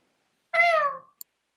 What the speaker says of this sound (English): Pluto grew up to be a remarkably beautiful cat